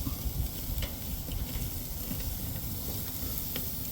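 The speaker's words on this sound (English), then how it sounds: "I put a little butter concoction on these, so when I flip them, you get a little flairage." Tomahawk steaks basted with a butter mixture sizzle loudly and continuously on a Weber kettle grill outdoors, a dense crackling hiss with occasional sharper pops, no voices.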